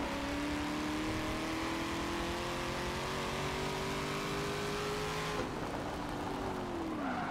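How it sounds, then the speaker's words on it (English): Race car engine in Forza Motorsport 7, a steady high-pitched whine climbing through the revs, then dropping suddenly as the car lifts off, with no talking over it. "This car sounds amazing."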